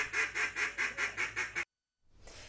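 A person imitates duck quacks at a duck-calling contest in Kaitangata, calling out a rapid, even series of about eight loud, nasal quacks close to the listener, then stopping abruptly before crowd noise rises.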